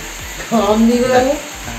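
Food sizzles and fries steadily in a hot wok, with a brief rising whine partway through and no talking.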